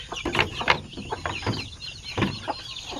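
Native Zampen chickens clucking close by, several short clucks and squawks in an irregular sequence over a faint farm background, no talking.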